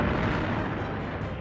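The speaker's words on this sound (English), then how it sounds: "The tank erupts into flames." Tank exploding after 20 millimeter aircraft cannon fire, a sustained, heavy, rumbling blast that fills the clip loudly with a dense roar and no talk.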